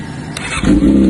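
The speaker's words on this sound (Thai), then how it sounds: "สตาร์ทเครื่องยนต์" A short crank is followed by a Yamaha R6 motorcycle engine catching and settling into a loud, steady low idle, close by.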